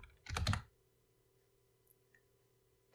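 Short burst of clicks from an English computer keyboard, a quick cluster of keystrokes near the start, then near silence with a couple of faint taps and one more key press at the end.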